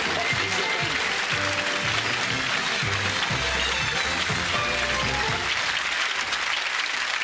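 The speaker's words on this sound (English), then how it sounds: "give him a nice clap" Studio audience applause on a television game show, continuous loud clapping from a large crowd with music playing underneath throughout.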